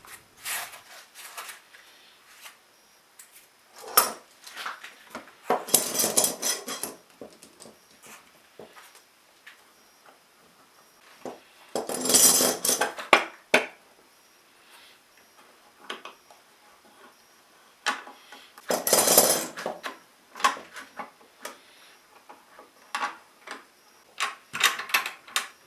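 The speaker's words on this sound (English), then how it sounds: "So with that done, we can just get some clamps on it." Clamps are fitted and tightened onto a guitar headstock with a glued veneer: scattered clicks, ratcheting and scraping bursts separated by quiet gaps, close by and with no speech.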